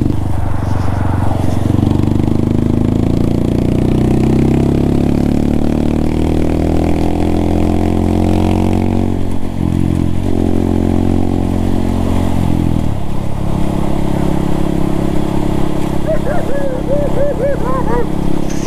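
A Honda Grom motorcycle engine rises and falls under throttle, loud and close with a buzzing, climbing rev that dips and picks up again, while a voice talks over part of it.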